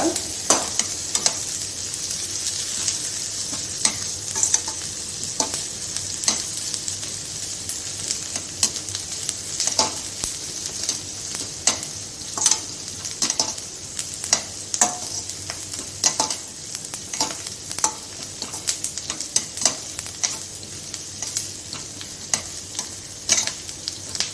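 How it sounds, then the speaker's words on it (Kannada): Crushed ginger and garlic fry in a pan for coastal Kundapura-style prawns sukka, sizzling continuously up close as a spoon stirs and scrapes again and again, with no talking. "ಶುಂಠಿ ಮತ್ತು ಬೆಳ್ಳುಳ್ಳಿ ಜಜ್ಜಿ ಇಟ್ಕೊಂಡಿದ್ದೆ ನಾನು, ಅದನ್ನು ಹಾಕಕ್ಕ, ಅದನ್ನು ಫ್ರೈ ಮಾಡ್ಕ"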